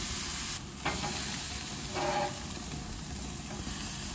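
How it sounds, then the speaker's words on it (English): Steaks sizzle on a grill in a constant close hiss, with a couple of brief louder bursts of spattering and no talking. "While the steaks are cooking"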